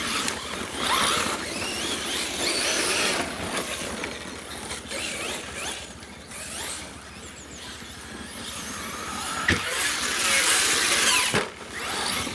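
A Team Magic UCP Racing Pickup 4S RC truck drives and jumps, its electric motor whining in rising and falling bursts with brief dips between runs.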